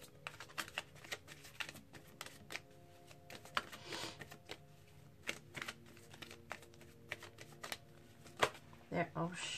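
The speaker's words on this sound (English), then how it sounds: "Let's get one Romance Angels card, please, for Libra, Sun, Moon, Rising, and Venus." Romance Angels oracle cards are shuffled by hand in quick, crisp riffles and flutters, close and fairly quiet, with a few louder snaps near the end and a soft voice talking faintly underneath.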